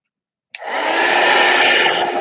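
A hair dryer switches on abruptly after a short silence and blows steadily and loudly at close range, drying mixed media artwork.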